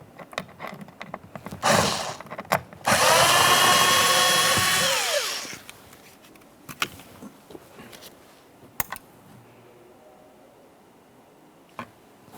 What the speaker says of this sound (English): we're going to use a T25 to remove our Torx head screw